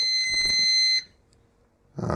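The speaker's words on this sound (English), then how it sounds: "So it beeps" A Lyman 1200 digital powder scale gives one steady, high-pitched beep lasting about a second, then goes quiet before a brief clunk.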